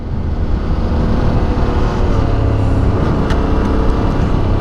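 A Yamaha Tenere 700 motorcycle rides off-road on dirt, with a constant loud engine drone, heavy wind buffeting and rumble heard from the rider's position.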